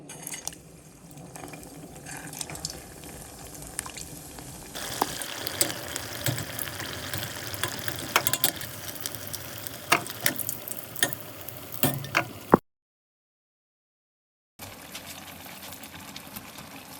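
Pork belly, carrots and vegetables fry for pancit, sizzling and crackling steadily in a hot pan with stirring clatter, growing louder as more goes in, then a brief silent gap before the frying resumes.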